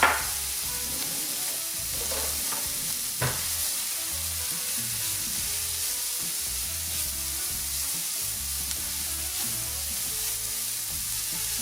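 Celery, carrot and onion sizzle in a non-stick pan for chicken cacciatore, a steady close frying hiss running throughout with a couple of faint clinks near the start.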